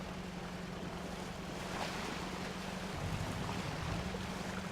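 Truck wading through shallow water in the off-road driving game Spintires: MudRunner, a steady low engine drone under broad washing, splashing water noise that continues throughout.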